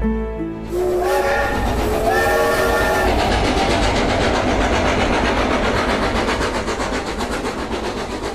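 A train horn sounds in a few sustained blasts, then the train runs on with loud, steady rumbling wheel and carriage noise and rhythmic clatter, used as an effect in an audio drama.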